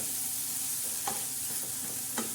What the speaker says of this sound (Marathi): काळा मसाला वाटलेला टाकायचा आणि छान असा हलवून घ्यायचा.